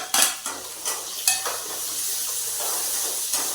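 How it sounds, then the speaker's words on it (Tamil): Garlic, ginger, fennel and poppy seeds sautéed in a pan for a meat curry, bright hissing sizzle broken by a few loud, close scrapes and clinks of a metal spoon, with no talk. "பூண்டு, இஞ்சி, கொஞ்சம் சோம்பு, 2 கசகசா இது கூடயே போட்டு நான் வணக்க போகிறேன்"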